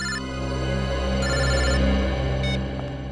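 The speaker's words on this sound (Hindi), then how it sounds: "मोबाइल कंपनी वालों का फोन था।" A mobile phone rings indoors in a TV crime drama, with a steady electronic ringtone that repeats in short bursts. A low hum runs underneath and no one speaks.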